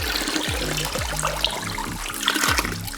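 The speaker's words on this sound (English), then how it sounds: "So I don't take all the water out at once, I just take out about" Water siphoned out of a small planted aquarium during maintenance trickles and gurgles steadily through the hose, close and continuous with bubbly splashes.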